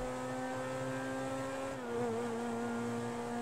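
Modified car in the video game GTA V hums with a steady engine drone, a sustained tonal whine that dips slightly in pitch midway and stays loud and continuous throughout.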